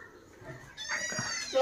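A cat lets out a drawn-out meow indoors at home, rising from a quiet background and partly overlapping nearby voices talking.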